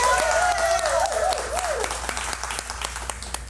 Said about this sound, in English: So give yourselves another round of applause